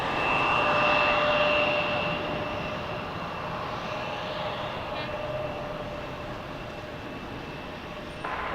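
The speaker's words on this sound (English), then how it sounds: "There is our Delta A220 from Dallas." A Delta Airbus A220 jet arriving from Dallas, a steady loud engine roar with a high whine, strongest at first and then easing, with no talk.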